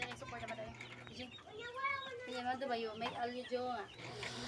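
About eighty fifteen-day-old chicks peeping and chirping in chorus in a poultry house in Cebu, Philippines, with a low hum underneath.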